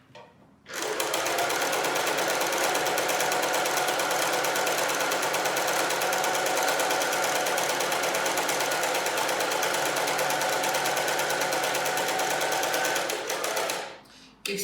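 Sewing machine stitching into the corner of a concealed-zip cushion, a loud, continuous close-up whirring run of rapid stitches lasting most of the time, starting and stopping abruptly, with no voices.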